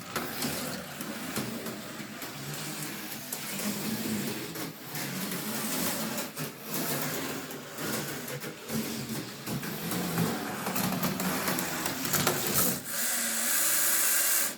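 AFX slot cars with inline motors race around a track, giving a steady, close whirring and buzzing motor drone with rattling wheels that runs on without a break for the whole stretch, with no talking.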